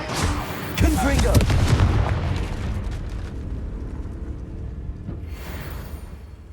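A Confringo fire-blast spell detonates in Hogwarts Legacy, a sudden loud boom around the first second followed by a long rumbling roar that slowly fades, with a brief whooshing swell near the end.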